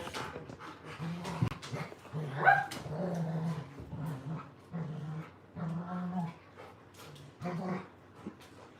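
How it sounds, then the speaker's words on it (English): Several dogs at a family gathering bark, growl and whimper in repeated bursts, yips and whines overlapping close by with short pauses between outbursts. "If y'all hear, that's what I'm hearing. That's what that is. This is the dogs."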